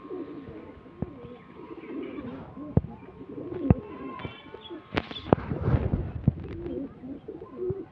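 Rajshahi Giribaz pigeons coo repeatedly at a pigeon farm, with soft chirps and scattered knocks and clatter around them. The birds are near and moderately loud.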